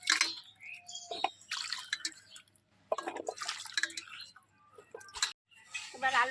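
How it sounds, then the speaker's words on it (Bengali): Eggplants being washed in water, with intermittent splashes, drips and sloshing in bursts separated by brief pauses, close by. "বেগুনগুলো ধুয়ে তুলে নেব।"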